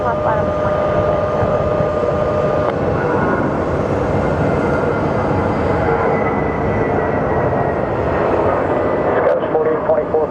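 An American Airlines Airbus jet rolls for takeoff at Phoenix Sky Harbor with a loud, sustained engine roar and whine, while tower radio chatter runs over it throughout.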